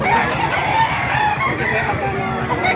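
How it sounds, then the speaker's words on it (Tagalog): Gamefowl roosters crow and hens cluck steadily in a busy, noisy flock at a market in Calumpit, with faint talking mixed in underneath. "Dami po mga manok."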